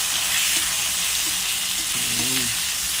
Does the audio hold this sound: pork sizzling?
yes